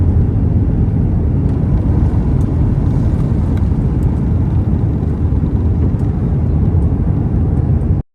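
Airbus A320 airliner on its takeoff roll, a steady loud roar of engine and rumble filling the cabin without a break, dense low-frequency noise with no talk.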